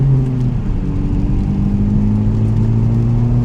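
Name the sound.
Honda Civic Type R exhaust revving with resonators deleted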